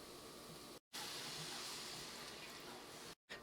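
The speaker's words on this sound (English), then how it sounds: "we're going to add our broth that I made, which is the shrimp bouillon cube that I shared with you" Shrimp bouillon broth, thinned with water, pours into a pan in a steady close hiss and sizzle, breaking briefly twice.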